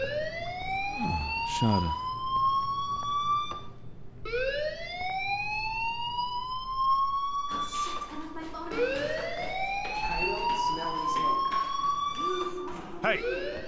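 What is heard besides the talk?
school fire alarm in the video game Life is Strange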